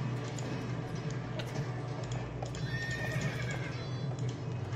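Horses in the strategy video game Fallen Empires whinny and hooves clip-clop amid steady battle ambience, with faint repeated neighs over a dense, continuous game soundscape.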